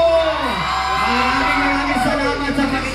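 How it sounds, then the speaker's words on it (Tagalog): A parade crowd at a city civic celebration whoops and yells loudly, with sustained cheering and shouted voices filling the space close and dense throughout. "Isang malakas na hiyawan"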